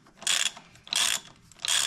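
A ratchet wrench tightens the rear axle nut on a Yamaha XT250 motorcycle during a flat tire repair, with three short, close bursts of rapid ratcheting clicks separated by brief pauses.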